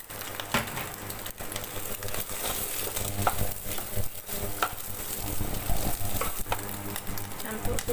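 Mushrooms and fish cake sizzle and crackle in a hot wok while being stir-fried for Singapore-style kway teow goreng, with a steady close frying hiss and occasional scraping stirs, and a faint voice now and then.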